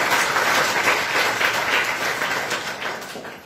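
A church congregation at a Hindi Christmas service claps for God, dense crowd applause sustained steadily for a few seconds and tapering slightly toward the end.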